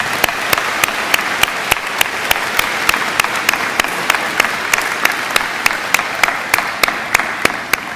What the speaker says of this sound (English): join me in a round of applause for our outstanding faculty